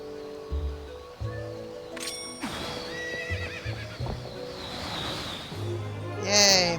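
A horse in Zelda: Twilight Princess neighs and its hooves clip-clop amid game sound effects, with a bright whinny toward the end and rustling in the background.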